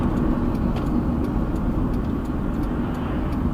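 Road traffic around a car at a multi-lane intersection near a coastal mall, a steady close engine and tire rumble with faint ticking, continuous and unbroken, with no talking.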